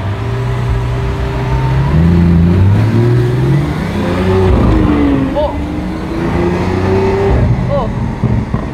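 A Lamborghini Veneno Roadster, an open-top hypercar, revs hard while driving: a loud, rising and falling engine roar recorded from inside the car, with gear changes and wind noise and someone talking over it.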